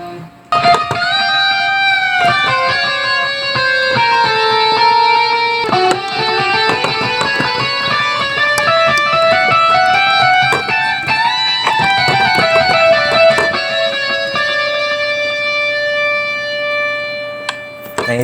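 A MIDI keyboard is played as an electric guitar through a Guitar Rig 5 or AmpliTube 3 effect plugin, giving sustained, distorted melodic lines and chords that ring loudly and steadily throughout, with no talking.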